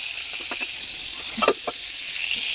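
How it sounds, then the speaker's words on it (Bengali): Leafy greens fry in a pan with a steady soft sizzle. A few light stirring scrapes and clicks rise briefly above the hiss. "শাক ভাজি বসেছে"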